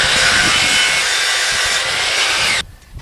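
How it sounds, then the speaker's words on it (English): A power saw rips through wooden boards for a cornhole game with a loud, continuous buzzing cut that ends abruptly as the blade clears the wood, leaving a quieter spinning-down hum. "I'm going to cut these since they are set in between the sides at"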